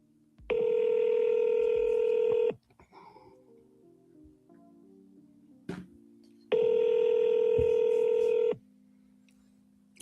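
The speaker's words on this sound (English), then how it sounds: "Let's see if we can get Vlad on the phone" Two long telephone dialing tones, each steady for about two seconds, separated by a quiet gap that has a few faint tones and clicks, as a call is placed on a phone.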